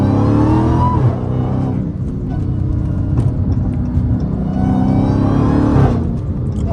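An 800-horsepower Dodge Hellcat Redeye launches hard from a traffic light, its loud, close engine roaring and rising in pitch continuously for several seconds.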